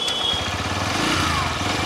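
Bajaj Pulsar N125 motorcycle engine running steadily at low revs while being ridden, a continuous close, even engine drone with no speech.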